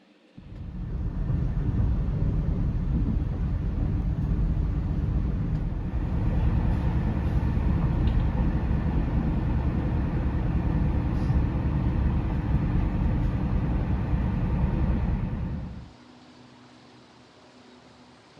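A Thai express passenger train rumbles along the rails with a steady, loud low roar, then the noise drops off sharply near the end as it reaches Khon Kaen station.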